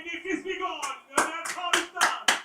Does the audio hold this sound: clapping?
yes